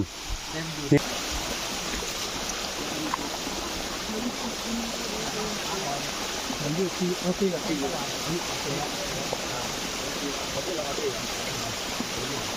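Forest stream water flows in a steady, broadband rush through the whole stretch, fairly close and continuous, with a brief knock near the start.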